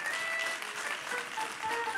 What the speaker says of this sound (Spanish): Dele un aplauso a su gloria.